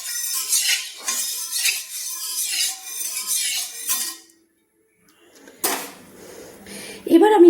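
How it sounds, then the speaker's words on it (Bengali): A metal spatula scrapes and stirs in a wok of hot refined oil, with repeated clinks and rubs at close range. A quiet pause follows, then more clatters and a sizzle. "তেলটা গরম হয়ে গিয়েছে, একটু খুন্তি দিয়ে নেড়ে নিচ্ছি কড়াইতে"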